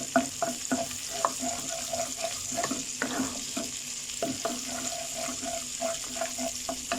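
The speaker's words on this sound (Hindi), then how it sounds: "गार्लिक को थोड़ा फ्राई करना है।" Garlic paste fries in hot oil for Chinese-style schezwan fried rice, sizzling steadily while a spoon stirs with quick, irregular scraping clicks against the pan, close and clear with no talking.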